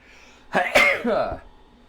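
A single loud, close sneeze bursts out after a brief quiet, with a short trailing exhale.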